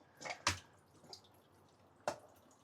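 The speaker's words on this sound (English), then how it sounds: "So make sure you drain the water" Water drains from washed lamb breast with a few sparse splashes and drips, one louder splash early and another near the end, faint and close, with quiet gaps between.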